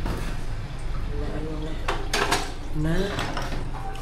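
Dishes being washed by hand at home, with plates and cutlery clinking and clattering in a few bright bursts beside a running tap, as a person talks over the work.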